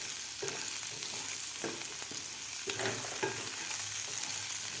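Potatoes and green peas fry in a pan for a spiced aloo matar chaat, a steady close sizzle running throughout with several scraping stirs of the spatula and no talking.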